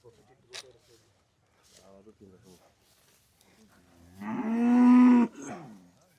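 A cow on a farm lets out one loud, drawn-out moo near the end, preceded by quieter lowing and a few soft sounds, with faint voices nearby.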